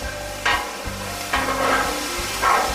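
Sliced pastrami warming and crisping on a Blackstone flat-top griddle, a steady close sizzle broken by a few louder scraping stirs as the meat is moved around, with no talking.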